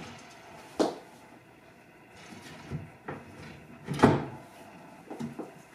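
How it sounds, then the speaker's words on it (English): Top panel of a Dingo storage cabinet being set down onto cam bolts and dowel pins, a series of scattered wooden knocks and bumps, one louder thud near the middle, close by. "we are going to place panel A, the top panel, onto the assembled below panels, and you want to align the cam bolts and the dowel pins."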